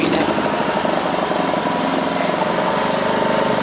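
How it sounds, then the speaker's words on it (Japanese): A handheld 2.3 kVA portable inverter generator runs after starting, its small engine putting out a loud, close, steady buzzing drone with a fast rhythmic knock, unbroken and free of talk. "エンジンかけましょうかね。"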